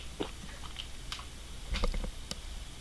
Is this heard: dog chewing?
yes